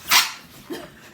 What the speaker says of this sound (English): It's a wiener dog.